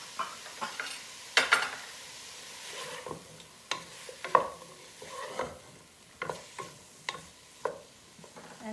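Broccoli and corn being stirred in a pan for an eggless vegetable quiche, with repeated scraping strokes over a soft sizzle, each stir a separate burst in an irregular rhythm.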